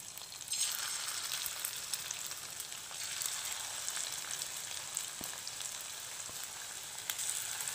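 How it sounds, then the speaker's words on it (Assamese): Pieces of meat fry one at a time in hot refined oil in a heated kadai, giving a steady, close crackling sizzle with occasional sharper pops and no talking. "এতিয়া ৰিফাইনত দি এপিচ এপিচকৈ ভাজি ল'ম"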